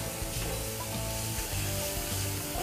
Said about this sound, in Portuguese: então a gente dá uma leve refogadinha